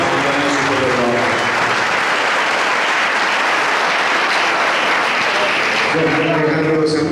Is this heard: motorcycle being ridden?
no